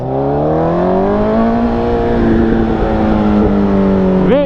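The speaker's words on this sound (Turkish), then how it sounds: "Egzozu duyuyorsun değil mi? Egzoz kıyamet." A 1000cc motorcycle's exhaust revs loud and close, its steady drone climbing gradually in pitch and then snapping up sharply at the very end, with no talking.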